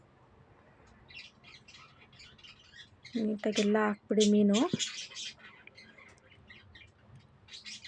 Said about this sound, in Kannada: ಸ್ವಲ್ಪ ಪಕ್ಷಿ ಸೌಂಡ್ ಮಾಡ್ತಿದೆ